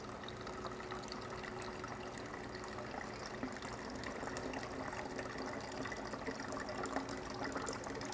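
Cold water pours steadily onto 50 g of ground coffee for Dutch cold brew, a continuous soft splashing trickle that stays even and fairly quiet throughout with no voices.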